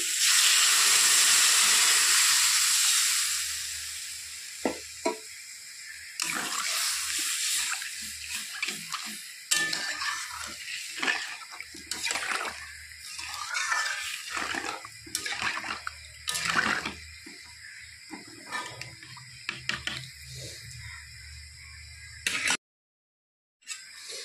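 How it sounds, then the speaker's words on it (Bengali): Broth is poured into a pan of browned curry spices for a bitter gourd dish, a loud burst of hissing steam that fades over a few seconds into scattered clinks and soft bubbling, close by. "এখন দিয়ে দিব ঝোল"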